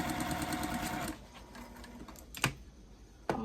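Sewing machine stitching 1.5-inch fabric scraps for a postage stamp quilt, a fast rhythmic chatter for about a second before stopping, followed by a few sharp clicks and handling noises.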